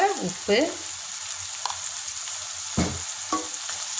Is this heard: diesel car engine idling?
no